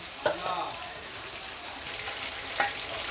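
Bhetki fish fillets fry lightly in hot oil, giving a soft steady sizzle with a couple of brief scraping or clinking touches near the start and end.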